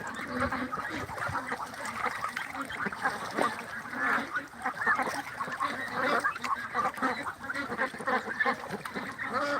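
A flock of about six hundred farm ducks quacks and honks in a dense, continuous chorus, many overlapping calls at close range.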